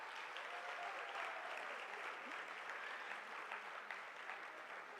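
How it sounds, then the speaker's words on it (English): Sustained audience applause at a foundation phase teachers' conference, honouring a retiring staff member; steady dense clapping from a sizable crowd, moderately distant and even throughout without a break. "A huge applause for Ms."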